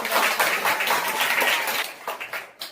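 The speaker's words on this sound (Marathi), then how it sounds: "अनन्यासाठी जोरदार टाळ्या" Classroom applause for a student, a burst of clapping from a group of children lasting about two seconds before tapering into a few scattered claps.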